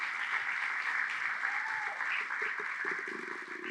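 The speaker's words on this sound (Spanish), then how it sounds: "Un aplauso para ellos, por favor." A crowd applauds in a steady, sustained wash of clapping, heard from a moderate distance with faint voices mixed in.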